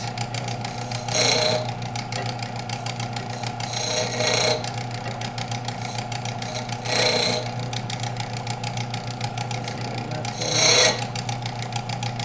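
A hunting knife blade is drawn across sandpaper in four slow, evenly spaced rasping strokes about three seconds apart, each a short scrape over a constant low hum.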